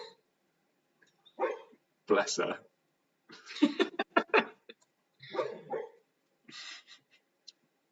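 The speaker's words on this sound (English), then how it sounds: "Can you hear my dog?" A sleeping dog lets out a series of short, soft yips, muffled barks and whimpers in irregular bursts, close and fairly quiet, with a person speaking briefly among them.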